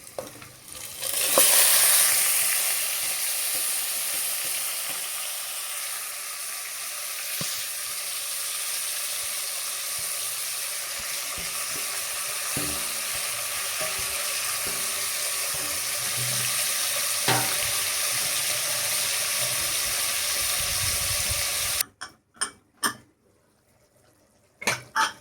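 Marinated chicken goes into a pan with fried onions and oil, giving a steady close sizzle with occasional utensil clinks and stirring, ending in a few sharp knocks after the frying sound cuts off.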